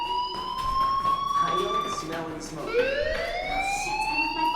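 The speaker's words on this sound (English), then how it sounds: "do you hear that fire alarm?" A fire alarm sounds in the video game Life is Strange. It gives off loud electronic wailing tones that sweep in pitch, dipping and then rising again in a second cycle.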